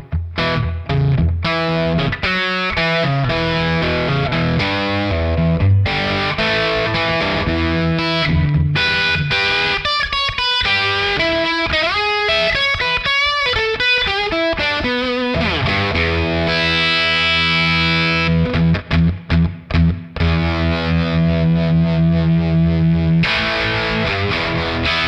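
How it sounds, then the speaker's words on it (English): An electric guitar played through a Keeley Verb o Trem pedal set to plate reverb with swampy harmonic tremolo, sustained chords and runs washing into a long reverb tail with pulsing, wavering modulation, loud and continuous with no talking. "let's start off with its plate reverb and then blend in some of that swampy harmonic tremolo"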